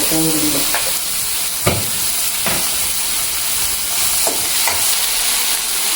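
A salted dish pan-roasting while stirred with a spoon: a constant close sizzle with a handful of short scraping clinks of the spoon against the pan, no talk.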